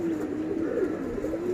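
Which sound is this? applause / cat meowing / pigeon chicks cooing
pigeon chicks cooing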